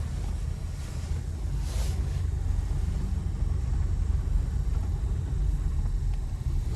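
A 1973 Chevrolet Cheval moves slowly and shifts from reverse into drive, heard as a steady low engine rumble under constant wind noise, with no distinct clunk standing out.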